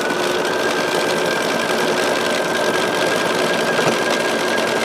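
A sewing machine stitches a quilt block, a steady, continuous close whir with a faint high hum running unbroken throughout, with no talking.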